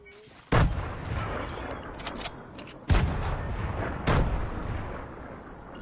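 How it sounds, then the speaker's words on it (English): Grenade blasts in a multiplayer shooter video game: three loud booming explosions spaced a couple of seconds apart, each followed by a decaying rumble, with no talk over them. "I'm gonna use these grenades."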